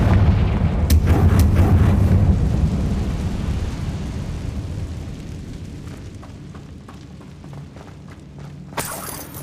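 Confringo blasting-curse explosions in Hogwarts Legacy on PlayStation 5 boom out loud and close: a heavy detonation with deep rumble and crackling debris that slowly fades, followed by a sharp fresh blast near the end.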